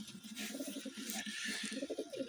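A pigeon coos softly in a rapid, repeating pattern of low throaty notes, faint against a hissy background.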